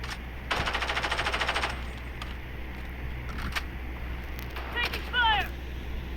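Video game gunfire: a rapid burst of automatic shots, then scattered single shots and other game effects over a steady low background hum, with brief electronic chirps near the end.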